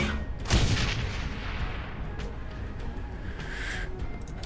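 Gunfire from the video game Shadowrun: Hong Kong, a single burst with a sharp report near the start, followed by rumbling, crackling combat noise that continues at a steady level to the end.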